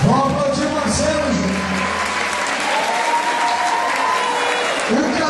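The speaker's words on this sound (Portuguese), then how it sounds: "Vou aplaudir o Marcelo," Crowd applause for Marcelo, a commission head honored at a gaucho artistic and cultural rodeo: loud, sustained clapping from a sizable audience, with voices and background chatter mixed under it throughout.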